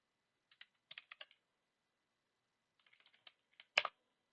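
Quick bursts of typing on a computer keyboard, short clusters of crisp key clicks separated by a pause, ending on one louder keystroke, close and quiet with no talking.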